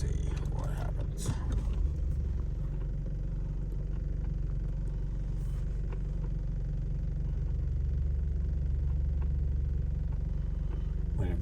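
Cars drive along a road at a fairly steady distance, giving a continuous low engine rumble and swelling tire hum with no clear break.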